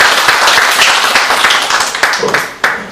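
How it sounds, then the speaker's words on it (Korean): Audience applause greets the guest lecturer at a 2018 science-education society invited talk on volcanic disasters: a dense, fairly close patter of many hands clapping that swells briefly near the end before fading. "박수로 맞아주시기 부탁드립니다."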